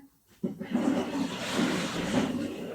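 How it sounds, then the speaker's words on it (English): A toilet flush starts suddenly after a short quiet moment, then a steady rushing, gurgling roar of water that keeps going, close by and fairly loud. "It's picked up the toilet flush."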